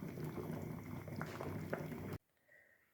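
Water boiling in a pot while sterilizing jars of marinated red peppers, a dense close bubbling rumble that cuts off abruptly, leaving near silence with a faint tone.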